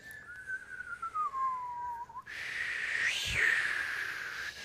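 Group of people whistling to imitate wind, a thin wavering tone gliding downward, then a broader breathy rush swelling like a light breeze growing stronger, faint and close.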